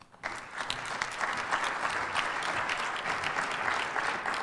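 A conference audience breaks into sustained applause during a keynote, a steady wash of clapping that starts abruptly and continues evenly throughout.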